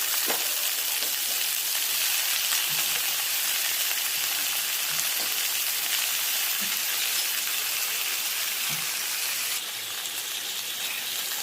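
Vegetables for a fish curry fry in oil over medium heat after a tempering of black cumin seeds, giving a steady, dense sizzling hiss that stays even throughout with no talking.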